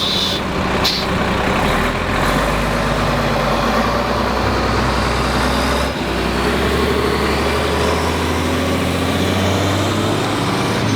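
A rear-engine GMC vehicle pulls a giant trailer nearby, its engine droning as a steady low rumble that holds loud and continuous for the whole stretch, with a brief hiss of air near the start.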